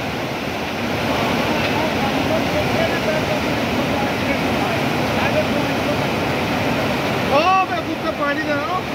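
Water rushes loudly and steadily past a failed dam, a dense broadband roar like surf that runs unbroken for the whole stretch, with a brief warbling sound near the end.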